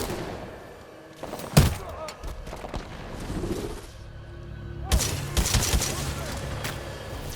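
A micro missile launcher fires in the video game Titanfall 2, with sharp explosive bursts and thuds, a loud hit near the start and a denser cluster of blasts later, set against a steady game backdrop.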